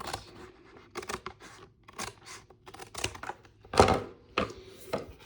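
Scissors snip through excess paper in a paper craft folio project, a series of short crisp cuts and rustles at close range, irregularly spaced with brief pauses.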